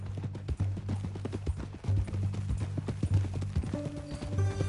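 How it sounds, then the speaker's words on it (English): Horse hooves clip-clop steadily on the ground in Red Dead Redemption II, a close, even walking rhythm of clops with low rumbling ambience underneath. "That a new horse?"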